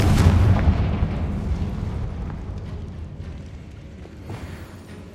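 A Confringo spell explosion in Hogwarts Legacy erupts with a heavy, loud blast up front, then a long rumbling decay with faint crackles and debris, no voices present.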